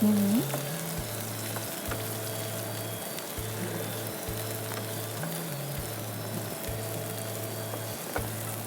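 About a cup of chopped onion frying in a pan until light brown, a soft, steady sizzle running under a repeating background melody.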